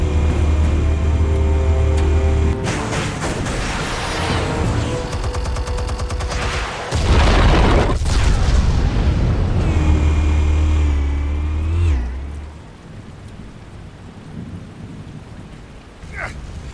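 Explosives detonating in Batman: The Telltale Series, a long, loud rumbling roar with booming surges and crackling debris that rolls on for several seconds before fading to a quieter, lingering rumble.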